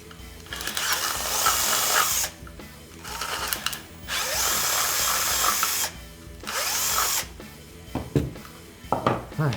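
A power drill bores a 1/2 inch hole for a sim-racing kill switch, running in several sustained whirring bursts separated by short pauses, close and loud, with a few clinks and clicks of the bit at the end.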